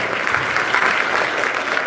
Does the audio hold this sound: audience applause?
yes